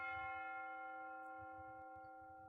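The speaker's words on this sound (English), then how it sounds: "There's the reset bell." A resonant reset bell in a video game rings out once and decays slowly with a sustained metallic hum, faint, while low murmuring sounds underneath.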